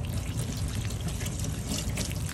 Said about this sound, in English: So I always actually give the beans, canned beans, a rinse.